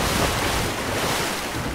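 Loud, continuous rushing water and surf in a video game, a dense wash of waves and wind with no voices over it.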